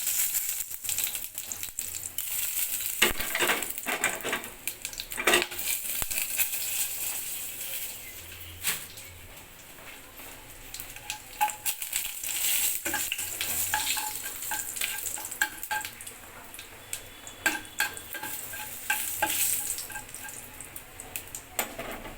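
Dried chilli, bay leaf, cinnamon, cardamom, cloves and whole cumin sizzle and crackle in hot oil, a steady broadband fry with clinks and scrapes of stirring throughout, close and fairly loud with no voices.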